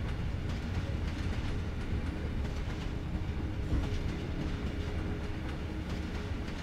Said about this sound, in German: Der Zug verlässt langsam den Bahnhof und seine weißen Rauchschwaden fegen wie kleine Wolken davon.